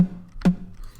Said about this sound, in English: Very weak and basic kind of clicky sound.